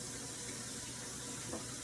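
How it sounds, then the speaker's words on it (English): Tap water runs steadily into a bowl of potatoes being rinsed to draw out starch, a soft continuous splashing hiss that stays faint and even throughout. "just let that water run into that bowl and bring out that excess starch"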